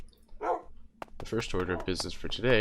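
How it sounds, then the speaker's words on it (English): Dogs in the Minecraft video game barking in short bursts, several yips and barks near the start and end, with someone talking over much of it. "where we live in a cave and the dogs just won't stop barking"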